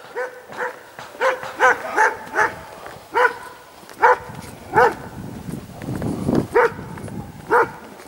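Several dogs bark on a farm in rural Birmingham, with repeated loud barks in uneven bursts, some close together, and quieter whimpering or rustling in between.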